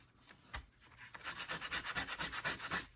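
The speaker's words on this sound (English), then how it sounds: "start using sandpaper to get the edges to be super smooth" Sandpaper rubs over the edges of a guitar pick in close, quick rhythmic rasping strokes, faint, starting with a single scrape and then a steady run of back-and-forth passes.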